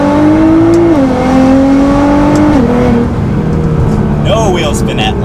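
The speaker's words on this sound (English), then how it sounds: "we'll do another acceleration in first gear" Nissan GT-R launching hard in first gear with launch control and the air conditioning off, engine note climbing steadily and shifting pitch in stepped rises, loud and close throughout with voices talking over it.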